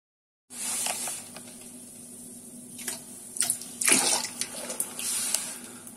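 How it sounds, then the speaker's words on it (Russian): Port wine drains from an oak barrel in a steady splashing stream into a vessel, starting abruptly and rising in bursts of gurgling and sloshing, close and with no talk. "Надо слить оттуда сейчас этот портвейн и залить туда дистиллят, а потом уже залью воду туда."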